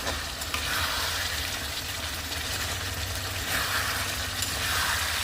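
Meat, onion and potato fry in oil spiced with turmeric and masala, giving a steady, dense sizzle with a low rumbling undertone that holds evenly throughout, with no voices.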